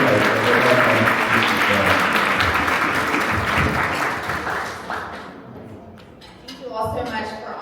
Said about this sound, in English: Can we just give another round of applause for Seeds of Knowledge?